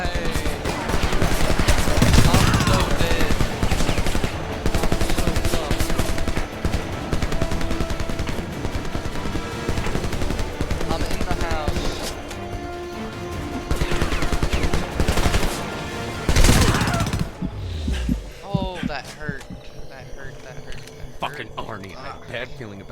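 Machine gun fire in the video game Homefront, dense and sustained bursts with fusillade clatter throughout, under frequent shouted voices and loud battle noise.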